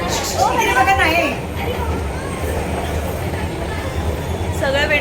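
A train at a station rumbles at the platform beneath lively crowd chatter and overlapping voices, with a low steady rolling drone throughout.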